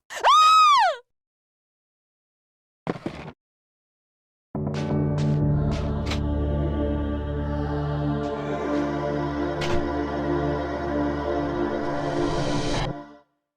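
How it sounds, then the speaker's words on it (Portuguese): In Clock Tower 2, a woman lets out a short, shrill scream that rises and falls. After a silence comes a brief second vocal burst, then a sustained tonal drone. "ele escuta o grito de horror da sua esposa e corre até a sala"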